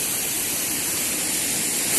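Continuous broadband rush of a waterfall heard from a short distance, loud and steady with spray and no voices over it.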